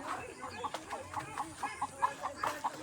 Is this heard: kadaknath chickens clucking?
yes